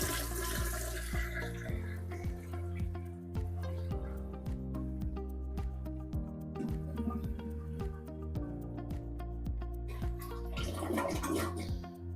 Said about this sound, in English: we're gonna test it real quick and see how it flushes with the water at that level